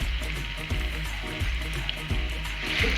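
Chopped onions fry in oil in a kadhai with a continuous close sizzle, broken by soft periodic scraping or stirring bumps, and no talking.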